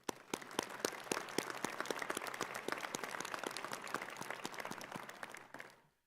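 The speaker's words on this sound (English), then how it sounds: "Let's give them a round of applause." Dense, steady applause from a large commencement audience at a 2024 medical school graduation, many hands clapping at once at a strong level before tapering off near the end.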